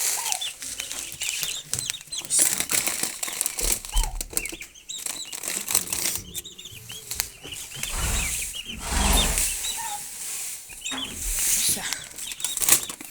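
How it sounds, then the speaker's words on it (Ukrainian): Turkey poults pecking at wheat grain feed, with busy close pecking and scratching, flurries of wing flapping and soft clucks from the birds throughout. "Корм, пшенична крупа, вони собі дзьобають."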